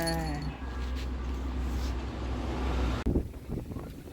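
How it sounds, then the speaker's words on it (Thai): Strong wind gusting across an open rural field where cattle graze before a rainstorm, a steady loud broadband roar buffeting the microphone for about three seconds, then a sharp drop with a few rustling knocks. "ลมมาเนี่ย ลมแรงได้ยินไหม"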